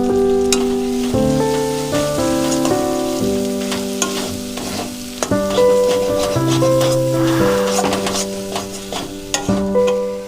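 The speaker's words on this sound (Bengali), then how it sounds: "মশলাগুলো সব ভাজা ভাজা হয়ে গেছে।" Spices for chana masala sizzle steadily in a hot pan, a continuous frying hiss with occasional stirring scrapes, loud and close beneath sustained background music.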